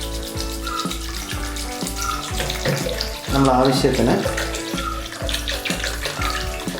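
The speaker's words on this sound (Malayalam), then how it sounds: "ജാറിൽ വെള്ളം ഒഴിക്കുക." Water pours steadily into a jar for a mint, ginger and lemon drink, a close, continuous splashing stream that swells louder partway through, with brief talking and a rhythmic musical backing underneath.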